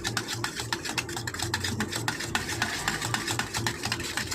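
Eggs for a bread omelette being beaten in a bowl, a rapid steady run of close whisking taps and scrapes, with no talking.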